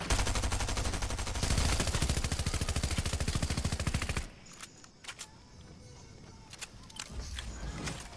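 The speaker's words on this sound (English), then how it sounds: "Shot someone right underneath us." Automatic gunfire in the Fortnite battle royale video game, a loud rapid burst of shots for about four seconds, followed by scattered quieter shots and thuds farther off.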